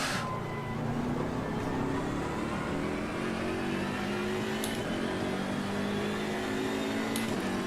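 A Mazda MX-5's engine drones steadily and close, its pitch climbing slowly as it pulls, with a continuous broad road and wind roar underneath and no voices.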